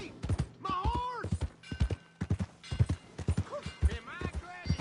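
Horse hooves clip-clopping in the video game Red Dead Redemption 2, a close, rhythmic run of hoof strikes with a few whinny-like calls and a voice talking over them.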